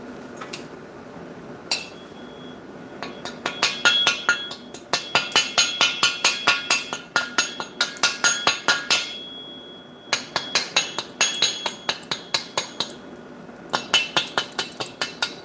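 Sharp metal hammer strikes ring out on a tack-welded steel bobber fender for a Honda Shadow, coming in quick bursts of closely spaced blows with short pauses between, loud and close, with no talk.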